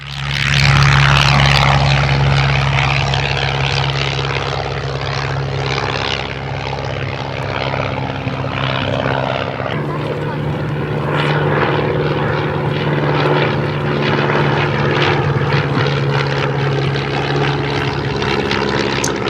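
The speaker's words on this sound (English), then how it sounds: "It's actually a lovely looking plane, isn't it?" A propeller plane flies at Sywell Airshow with a loud, continuous engine drone and a steady hum that shifts slightly as it passes, with no voices.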